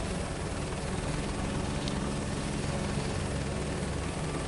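Helicopter in Microsoft Flight Simulator 2024, a steady loud rotor and engine drone that holds unbroken throughout, with no voices over it.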